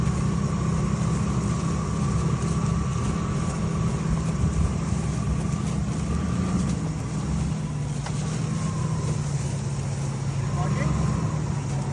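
A Crown Vic with one lug nut loosely fitted is driven to work a stuck wheel free, its engine a steady low rumble and drone throughout, with people talking over it.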